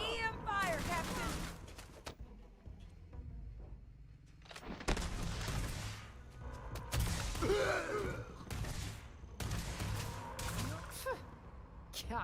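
Energy weapon fire in the space game Starfield, a rapid run of sharp zaps and bursts spread through the scene, with frantic shouting voices and gasps mixed in.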